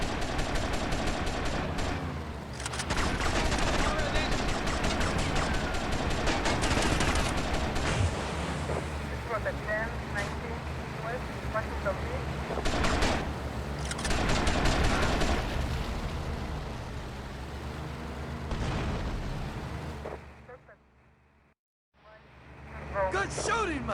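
Gunfire from GTA Vice City, The Definitive Edition, with repeated bursts of shots over engine and water noise, loud and busy for most of the stretch before a brief drop to near silence, with voices talking in between.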